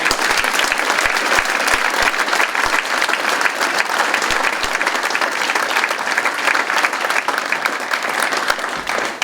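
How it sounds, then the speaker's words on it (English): A Veterans Day ceremony audience gives loud, sustained applause, a dense, even roar of many hands clapping at close range for over nine seconds without pause. "A round of applause for all those who worked."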